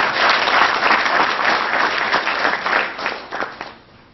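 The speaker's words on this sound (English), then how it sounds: "A huge round of applause for our principal." An audience applauds their school principal at a felicitation for a national teaching award, with thick, continuous clapping that swells and then thins toward the end.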